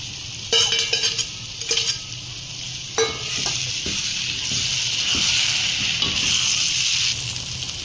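Okra being stirred and fried in a pan for a Tamil mandi dish with other sautéed ingredients, with a few scraping stirs of a spoon against the pan early on, then a steady loud sizzling hiss.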